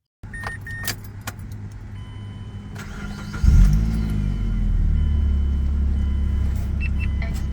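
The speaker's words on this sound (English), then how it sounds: "just start up the car and see how it goes" A car engine cranking and catching after a spark plug replacement, preceded by faint clicks and key jangles, then a loud starter whir that settles into a steady, close idle rumble.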